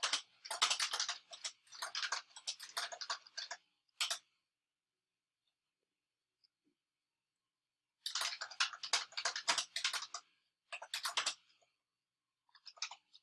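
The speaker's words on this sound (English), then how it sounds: "Type this in." Rapid keystrokes clatter on a computer keyboard while details are entered for a WordPress site, two dense bursts of typing separated by a few seconds of silence, close and clear.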